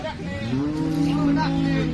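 A cow at a cattle market in Baramati gives one deep, drawn-out moo, loud and close, lasting about two seconds.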